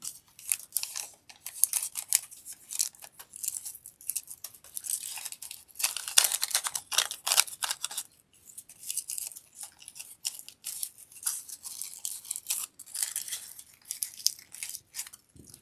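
Paper being accordion-folded into a fan for a Valentine's wreath makes a long run of close crinkling creases and crisp rustles, uneven and continuous with brief pauses.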